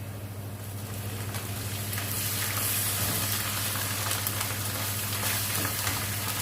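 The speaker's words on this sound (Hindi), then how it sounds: "थोड़ा सा पानी शामिल कर देंगे।" A pan of browned onions and garlic-ginger paste frying for chicken biryani hisses as water is poured in, building from a low sizzle into a steady, louder bubbling rush with no talk.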